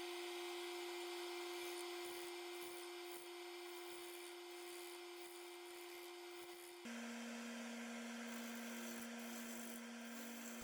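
Lathe spinning a large walnut bowl blank with the tailstock pulled up, a steady whining hum with two strong tonal lines that shift pitch partway through, light scraping of small cuts over it, alone without talk.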